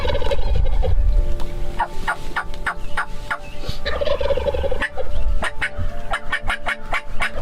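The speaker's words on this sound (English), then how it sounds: "the other one was gobbling his head off every time Dad hit the call" A wild turkey tom gobbles again and again at close range in a field during turkey season, the rapid rattling calls coming in bursts over outdoor background noise.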